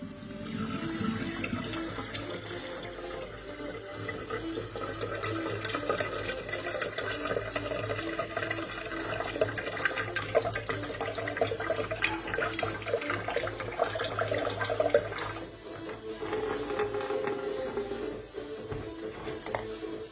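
Dirty, bacteria-laden water from an opened external aquarium filter pours steadily and splashes close up for about twenty seconds, with a brief lull near the end and no talking.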